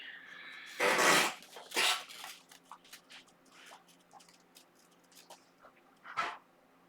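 A puppy sniffs and snuffles close by in quick bursts of breathy snorts, with a couple of louder sneeze-like puffs and softer panting in between. No one talks over it.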